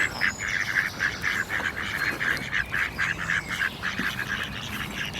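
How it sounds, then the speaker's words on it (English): Waterfowl at a lake in a nature reserve give a run of rhythmic honking quacks, about a dozen in quick succession, moderately close against faint outdoor background. "We've got lots of ducks."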